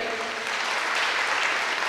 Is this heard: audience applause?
yes